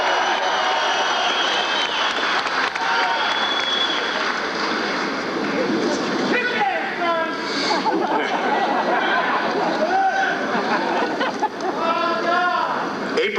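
A crowd gathers at a 1994 US Senate campaign rally outdoors, a steady wash of chatter and scattered clapping with occasional louder cheers, while a voice speaks over it and a distant aircraft hums overhead.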